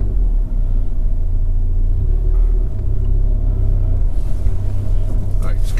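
A Ford Fiesta ST 180 rolls slowly along a tight lane, its engine a steady low rumble heard from inside the cabin, with a voice talking over it.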